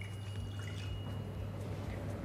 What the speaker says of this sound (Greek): Να βάλω το νερό.